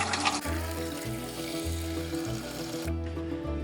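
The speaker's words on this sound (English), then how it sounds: "we're going to put about 1 inch of water in here" Water pours steadily into a pressure canner being readied for home-canning salmon in half-pint jars, a close, continuous splashing rush that stops abruptly near the end.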